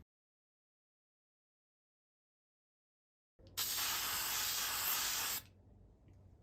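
After a long silence, a can of spray adhesive hisses onto a stencil in one steady two-second burst, close and loud, then cuts off to faint room noise.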